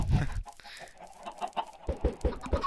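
Chickens in the video game Minecraft give short clucks, a few soft ones early and then a rhythmic run of four or five louder clucks close by, with no talking.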